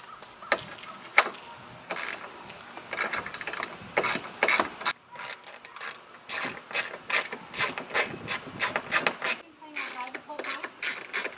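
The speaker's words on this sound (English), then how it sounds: "Let me undo these bolts and then we'll get this bumper off." A ratchet clicks rapidly and repeatedly at close range while undoing car bumper bolts, in several bursts separated by short pauses.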